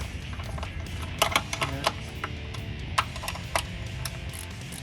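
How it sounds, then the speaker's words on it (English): A ratchet clicks in short bursts while nuts come off the ignition coil bracket of a 2012-2016 Jeep Wrangler JK, faint sharp ticks with brief pauses between them. "I'm going to remove the other 2 nuts."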